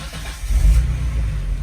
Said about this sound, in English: You can start the car